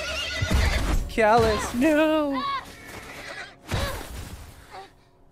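A horse in The Last of Us neighs loudly in a long wavering whinny, with a second shorter whinny after a pause. A voice speaks briefly over it.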